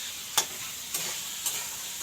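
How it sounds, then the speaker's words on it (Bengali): Steady sizzling of vegetable curry cooking in a pan, with three brief scraping stirs spaced through the short clip. "দেখো তরকারি হচ্ছে।"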